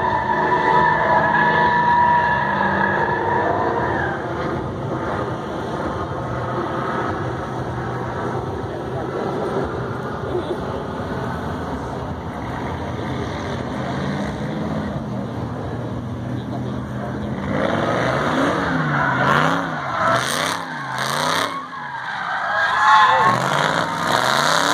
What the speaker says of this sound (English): That's a good drift there, you see that?